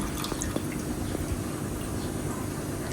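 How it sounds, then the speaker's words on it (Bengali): Whey drips and trickles steadily out of hung curd set to drain for homemade mango yogurt, a soft continuous watery patter with faint splashes, close by and without talk. "এখান থেকে জলটা বার করছি এখন"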